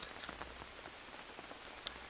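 Rainfall in the survival game Green Hell makes a constant gentle hiss, with individual drops ticking and pattering on surfaces now and then, low in level and unbroken, no one talking.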